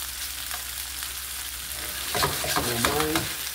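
Beef and bitter melon frying in a pan, a steady close sizzle throughout with a brief stir or voice-like burst of sound rising near the end.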